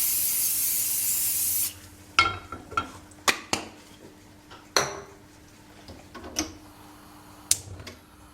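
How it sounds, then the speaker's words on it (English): A can of cooking spray oil is spritzed onto a pan for an omelette: a steady hiss at the start, followed by sharp clinks and knocks of pans and utensils. "I'm going to use spray oil."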